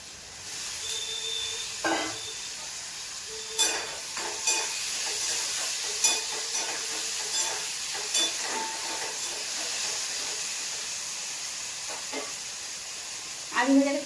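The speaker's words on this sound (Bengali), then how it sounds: "আলু ভাজাটা চাপিয়ে দিলাম, ওইদিকে ভাত হচ্ছে আর এখানে আলু ভাজা হচ্ছে" Potatoes fry in a pan on a home stove with a steady sizzling hiss throughout, broken by occasional clinks and scrapes of stirring, and a voice speaks briefly at the end.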